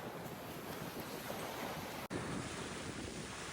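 Wind at Resurrection Bay in Seward, Alaska, buffets the microphone as a steady, full rushing roar with surf-like texture, briefly cutting out before resuming just as strong.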